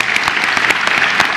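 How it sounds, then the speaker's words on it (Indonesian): Studio audience applause for a doctor on a television talk show, a loud, continuous crackle of many hands clapping with a few distinct sharp claps. "Tepuk tangan buat Dr. Ari."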